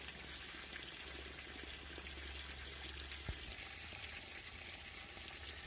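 Old dark antifreeze draining out of an MTZ-82 tractor's cooling system, a steady faint trickle of liquid running continuously with one brief knock midway.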